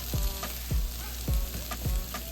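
Potatoes and chorizo fry in a pan with a close, constant sizzle, and soft thumps recur about every half second. No one speaks.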